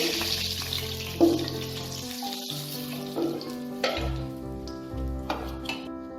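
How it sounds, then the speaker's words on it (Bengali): Potatoes seasoned with salt and turmeric frying in oil for Kolkata-style mutton biryani, a soft sizzle sitting under steady background music, fairly quiet throughout. "আলুটাকে আমি লাল করে ভেজে নেব"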